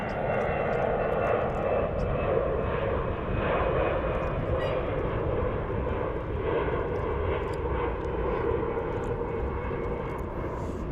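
A Boeing 777 jet at Dallas/Fort Worth International Airport makes a continuous, fairly loud broadband engine roar that holds steady throughout, with talk running over it.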